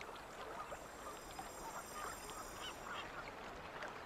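Seagulls call in the Harry Potter and the Order of the Phoenix video game on PS3, their honking cries faint and scattered over a steady wash of ambient background noise.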